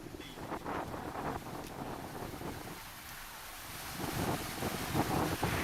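Stormy pre-monsoon wind with heavy rain sweeps through Manmad, a gusty, rumbling roar that buffets the microphone, dips briefly midway, then swells louder toward the end.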